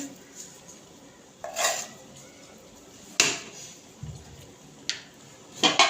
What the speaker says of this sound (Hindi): इसको हम अच्छे से मिक्स कर लेंगे।